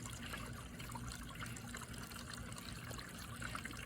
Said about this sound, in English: Let's see water running in it.